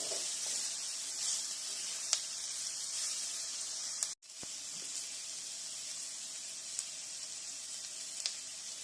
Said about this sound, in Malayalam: ഇത് മീഡിയം ഹീറ്റിൽ നല്ലപോലെ ഇളക്കി തരാം.